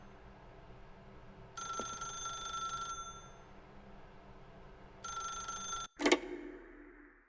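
A telephone rings in the video game The Stanley Parable, two separate bursts of electronic ringing with a gap between them, then a sharp click as the call is answered.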